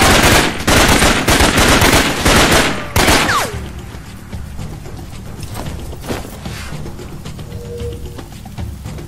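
Rapid automatic gunfire in the jungle combat game Raven Squad, loud and close in dense bursts for about three seconds, then falling away to a quieter ambient backdrop.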